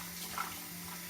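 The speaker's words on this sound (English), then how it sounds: "first we need to use kind of cold tap water" Cold tap water runs from a faucet for soaking black woodear mushroom, a brief, soft, steady splash over a low background hum.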